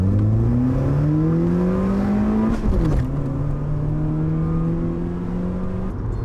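A 2008 Honda Fit with a small engine accelerating hard from a standstill, its engine note droning and rising in pitch, then dropping briefly at a gear change before climbing steadily again, loud and close with no talk.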